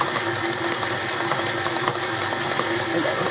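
Electric mixer whirring steadily as it beats strawberry New York cheesecake batter, a continuous close buzzing drone that holds without a break throughout.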